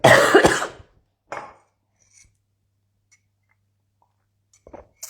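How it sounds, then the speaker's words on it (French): A single loud cough close by, followed by a shorter throat-clearing sound and a few faint clicks in otherwise near silence. "Pardon, je vais tousser."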